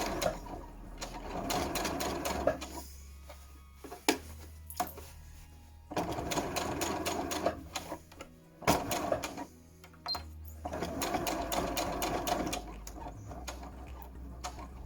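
Sewing machine running slowly along a seam line in loungewear fabric, with a steady rapid mechanical clatter in three long bursts separated by short pauses, close and alone.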